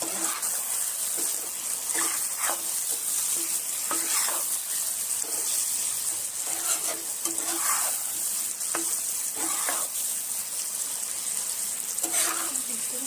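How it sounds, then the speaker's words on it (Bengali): Mutton korma with freshly added spice powder sizzles loudly in a pot while being stirred, with repeated scraping strokes of the spoon every second or so over a continuous frying hiss. "গুঁড়ো দিয়ে দিলাম আবার নাড়বো"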